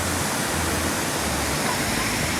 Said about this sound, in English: So this is Kegon Waterfall.